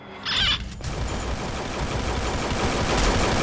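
Sustained, dense automatic gunfire from a video game shooter, loud and continuous from start to finish after a brief sharp mechanical sound at the opening.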